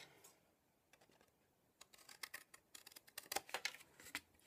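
The corner of a small card-built mini bookshelf being cut: soft handling at first, then a quick series of crisp, close snips, faint overall.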